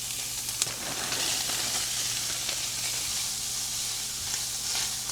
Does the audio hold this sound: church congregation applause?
no